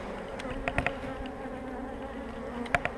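Agitated honeybees drone steadily during a spring inspection of a yellow hive, a close, continuous buzz broken by a few sharp knocks and clicks from the frames and hive.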